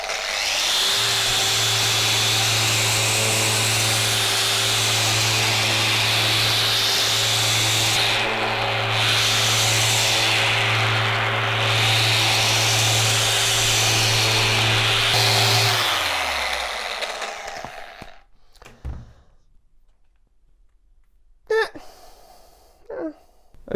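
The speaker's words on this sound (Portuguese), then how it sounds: "Vamos testá-la com uma lixa de 80 em modo normal." Bosch GEX 150 Turbo random orbital sander with 80-grit paper stripping varnish from wood, a loud steady motor whine with abrasive rubbing for about fifteen seconds, then spinning down into quiet with a few faint knocks.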